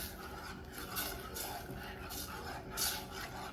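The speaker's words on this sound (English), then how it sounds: "Now I'm going to just stir this together and just kind of let it cook." A spoon scrapes and clinks steadily around a pot of Texas sheetcake mixture heating on a gas stove, soft repeated stirring strokes close by and fairly quiet.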